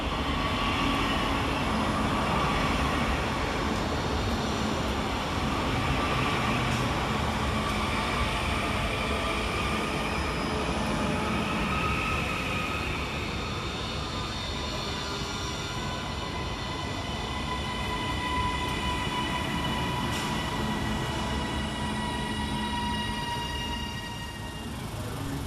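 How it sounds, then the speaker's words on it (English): A pair of Northern class 331 electric units arrives at Deansgate station in Manchester with a steady, loud rumble, rolling wheel noise and faint squeals from the rails, continuous throughout and easing slightly at the end. "Next arriving into the station is 331030 and 331029, working the 1437 Northern Service from Hazel Grove to Blackpool North via Bolton."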